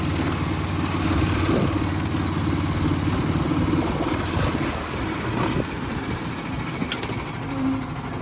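A steady engine rumble and drone from a vintage car on the move, loud and continuous, with faint rattles and knocks throughout and no talking.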